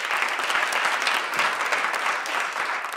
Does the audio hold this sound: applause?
yes